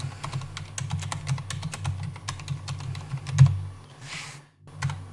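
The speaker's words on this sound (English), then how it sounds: "I'm going to continue typing this up" Steady rapid keystrokes on a computer keyboard, a dense run of clicks close to the mic with a brief pause near the end before a couple more taps, over a low constant hum.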